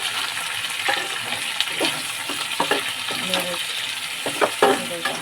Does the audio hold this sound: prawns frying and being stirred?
yes